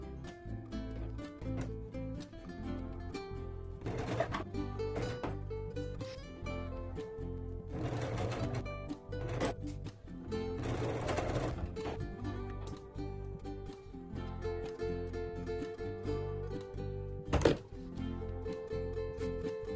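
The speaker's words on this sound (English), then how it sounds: "So I ran out of thread and had to reload and be able to finish sewing my block together." A sewing machine stitches quilt blocks together up close, with bursts of fast mechanical chatter separated by short pauses and quieter handling clicks, no talking.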